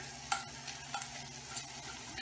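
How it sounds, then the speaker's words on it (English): Fiddleheads sizzle in a very hot frying pan, a steady close frying hiss with a few brief stirring clatters and pops, no voices. "you can already hear the sizzle"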